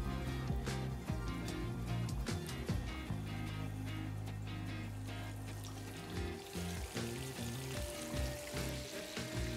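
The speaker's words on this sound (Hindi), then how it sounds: "अरे वाह, द ऑयल इज हॉट। अब ये चिकन को डालते हैं इसके अंदर" Chicken pieces for KFC-style fried chicken drop into hot oil and deep fry, a dense steady sizzle with clattering bursts at the start and a brief clink near the end, close and fairly loud.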